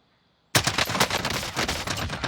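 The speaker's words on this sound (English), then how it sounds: "He then just starts shooting through the metal trying to pen." Automatic weapon fire in the video game Warzone, shooting through metal, starting abruptly after half a second of near silence and continuing as a loud, rapid stream of shots with metallic impacts.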